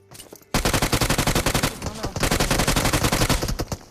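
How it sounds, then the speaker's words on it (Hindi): Tommy gun firing in a Free Fire-style mobile shooter game: a loud, rapid burst of automatic shots at a steady rhythm that lasts over three seconds, with a brief dip in the middle. "पीछे की साइड से टॉमी का फायर आया मेरे पे"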